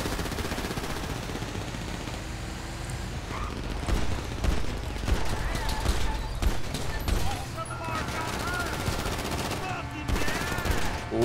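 Bursts of automatic gunfire crackle through a GTA V heist video game, dense and repeated amid engine noise and game effects, with people talking over the shooting.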